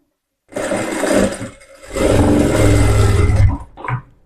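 A sewing machine stitching a blouse runs in two loud, close bursts of rapid mechanical whirring, separated by a short pause and ending with a brief final stitch.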